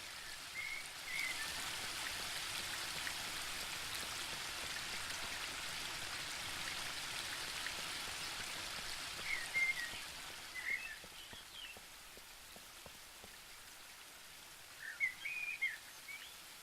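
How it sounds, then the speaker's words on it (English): A steady, hissing wash of a video game waterfall fills the scene evenly, with a few faint chirping birds calling over it now and then. "The waterfall and I have been neighbours for so long that I don't really hear it anymore"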